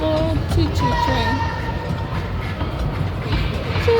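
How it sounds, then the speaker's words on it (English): Rumbling ride-on children's choo-choo train rolling steadily along with clickety-clack of wheels, close and continuous for the whole stretch, with people talking over it. "All aboard choo-choo train."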